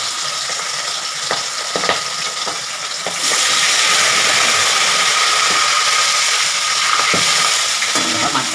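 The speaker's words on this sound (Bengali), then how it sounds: "মাছটা ভাজা হচ্ছে।" Katla fish fillets sizzling steadily in hot oil in a pan, a loud continuous fry that swells partway through, with occasional clinks and scrapes of stirring.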